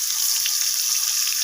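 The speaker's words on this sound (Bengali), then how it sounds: "তো পটলগুলো ওখানে ভাজা হয়ে গেছে, পটলগুলোকে আমি তেল থেকে তুলে নিচ্ছি।" Pointed gourd (potol) fries in hot oil, a bright steady sizzle with small crackling pops, close and continuous.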